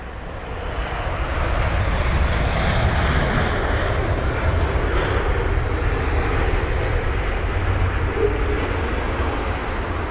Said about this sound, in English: The Cathay Pacific A350-900 arriving from Hong Kong.